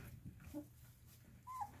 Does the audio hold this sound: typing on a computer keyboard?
no